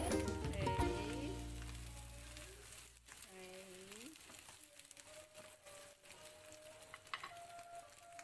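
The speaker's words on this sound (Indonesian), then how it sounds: "Kita langsung aja masukkan ikan yang telah digoreng." Pieces of fried fish drop into a pan of golden-brown spice paste, with a loud sizzle that fades into a softer, steady frying crackle, and a few faint clinks from the pan.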